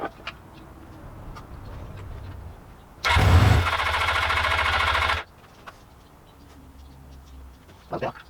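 A Suzuki GS500 motorcycle, idle for years, fires up with a loud rough burst of engine noise lasting about two seconds before cutting out, leaving quiet surroundings with a few faint knocks.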